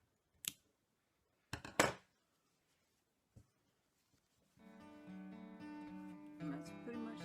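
Scissors snipping crochet yarn after tying off a crocheted hook case, a few crisp close cuts in near silence, followed by a voice talking.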